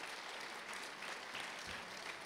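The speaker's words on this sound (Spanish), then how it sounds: "vale la pena darle las aplausos" An audience applauds an Israeli professor's prestigious Emet Prize at an International Ladino Day event in Israel. The clapping is faint and distant, an even, continuous patter lasting a couple of seconds without talk.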